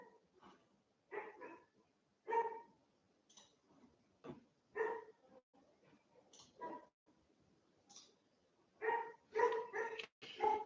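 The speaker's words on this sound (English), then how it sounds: "my dogs are going crazy out there if you're getting a lot of background sound" Dogs barking outside, repeated yips and barks in irregular bursts, fairly faint and distant, growing busier toward the end.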